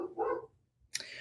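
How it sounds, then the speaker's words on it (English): A dog barks in the background of a quiet indoor room: one muffled low bark, a short pause, then a sharper, brighter yelp close behind it. "we apologize if you can hear the dog barking in the background"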